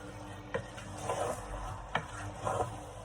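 Spices stirred in a cooking pot over heat make a soft sizzle under repeated scraping strokes of a spoon, with several distinct knocks against the pot at irregular intervals.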